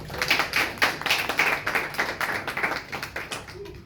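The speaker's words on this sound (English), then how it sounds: "would you like a round of applause before you get started?" A small class claps for a student speaker about to give an informative speech, a short patter of individual hands with some distinct claps, fading toward the end.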